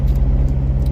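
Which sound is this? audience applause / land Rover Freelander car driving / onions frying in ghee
land Rover Freelander car driving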